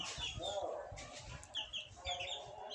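Native chickens and roosters on a small hobby farm in Mymensingh cluck and call, close by but fairly quiet, with a few sharper squawks over a low murmur of background voices.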